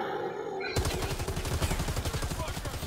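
Rapid bursts of gunfire in a Predator versus everybody shooter game, loud and sustained with dense repeated shots and a brief quieter lead-in, voices faintly mixed underneath.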